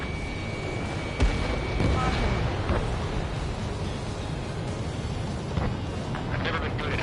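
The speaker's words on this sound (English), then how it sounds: "Spare 15, missile away." A missile fired in a PS4 combat game roars under a continuous rumbling battle din, with a sharp blast near the start and further booms, while a voice talks over it.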